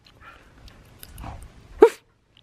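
A dog gives one short, fairly loud bark near the end after a few quiet snuffling sounds.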